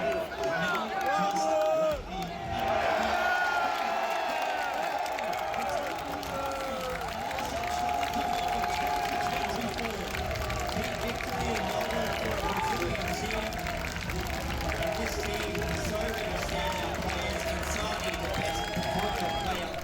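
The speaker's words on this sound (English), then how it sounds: "I am with the crowd chanting for a major to come to Australia" Spectators chant together at a live Counter-Strike tournament event in Australia. A loud, sustained crowd roar with cheering and some clapping fills the whole stretch, with voices rising and falling in rhythm.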